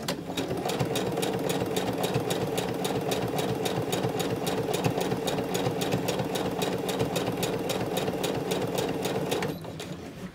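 An SN777 sewing machine with a standard foot and a size 16 needle stitching denim at slow speed: an even, steady rhythm of mechanical clicks that stops near the end.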